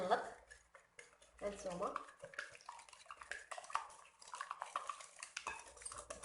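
Granulated sugar being mixed into lemon cake batter in a bowl, heard as close, irregular scraping and clinking of a utensil against the bowl, with someone speaking briefly.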